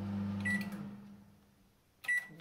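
An LG MJ2886BFUM charcoal convection microwave oven starts up in a kitchen: a short button beep, then a low steady hum from the running oven, followed by another pair of beeps near the end.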